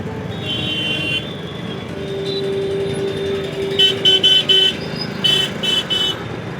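Busy street traffic with a steady engine and road rumble, broken by several short car horn toots in quick bursts near and far toward the end.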